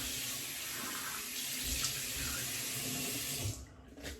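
Tap water running steadily and splashing while someone rinses off, close and moderately loud, cutting off near the end.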